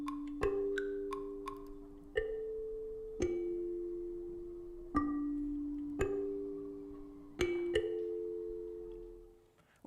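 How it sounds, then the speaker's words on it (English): Kalimba tines plucked one at a time, about eight dry, close notes ringing out with short decays in an unhurried rhythm, with no reverb or other sounds. "So I've got this kalimba here."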